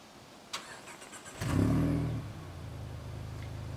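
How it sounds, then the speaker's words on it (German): A Mazda CX-30 fitted with a sport exhaust cranks and fires up, a brief starter whirr followed by a rising catch, then settles into a steady, low, fairly quiet idle. "Wir fangen mit dem Leerlauf an. Starte mal den Motor."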